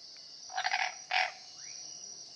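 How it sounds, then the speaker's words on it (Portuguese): A cururu toad at a riverbank gives two rasping, pulsed croaks, loud and close, over a steady background whine of insects. "O sapo cururu. E ele vai fazer um som."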